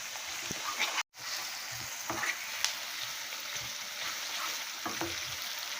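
Ginger and garlic frying in hot oil for a country chicken curry, a steady close sizzle with crackling pops and light stirring scrapes, a brief cut near the second mark.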